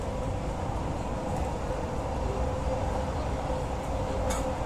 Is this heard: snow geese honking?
no